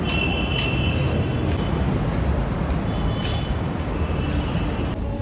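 A steady loud rumble of a metro train in motion, with faint high squeals and tones over the continuous running noise.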